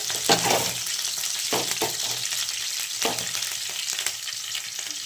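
A tempering of chana dal, garlic and curry leaves fries in hot oil for bottle gourd pulusu, giving a close, continuous bright sizzle with bursts of spluttering crackle throughout, no voices.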